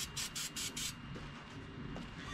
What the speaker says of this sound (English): So we'll give her a shot of starting fluid.